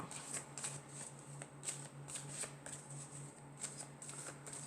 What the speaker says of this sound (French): je vais prendre quelques cartes de l'oracle de la triade